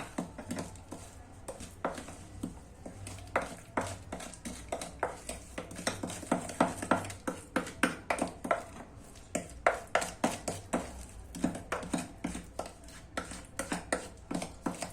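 Biscuit ingredients are mixed in a bowl, a fast run of rhythmic tapping and scraping strokes from a utensil against the bowl, steady and close, alone without talk.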